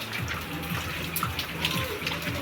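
Floodwater running through a street in Bacoor, Cavite, a steady rushing and gurgling wash of water close by with no talk over it.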